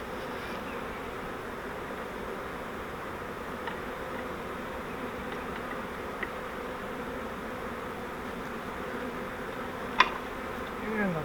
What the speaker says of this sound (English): Make sure we're not squishing any bees.